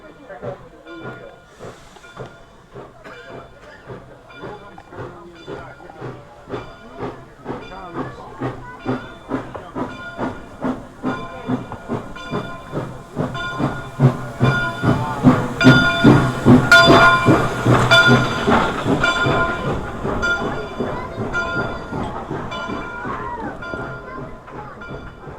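A steam train on the Kettle Valley Steam Railway rolls past close by, its rhythmic clickety-clack of wheels on rail joints building in speed and loudness, with hissing steam and people talking over it.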